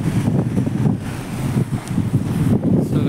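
Strong wind blowing beside a lake, a loud, continuous low rumble buffeting the microphone in uneven gusts, with no talk over it.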